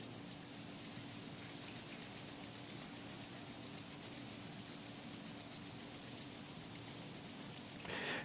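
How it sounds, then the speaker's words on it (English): Two palms rub together steadily during a closing meditation, making a continuous dry swishing friction that runs unbroken, close and fairly loud, with no speech over it. "Rub your palms together."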